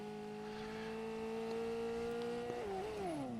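A Ferrari in the Fortnite video game, its engine giving a steady, loud synthetic tone that holds for a few seconds, then pitches down and wavers as it shifts near the end.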